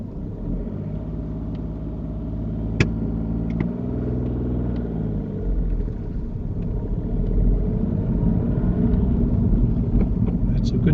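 A car pulls away from a stop in first gear during a driving lesson on a quiet road, its low engine rumble steady and close, rising slightly as it moves off, with talk over it.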